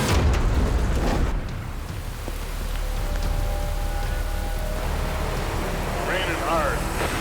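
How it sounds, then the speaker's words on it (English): Heavy rain pours down steadily along a highway in the Fraser Valley, a dense constant hiss with some rumbling and a voice briefly present. "Raining hard."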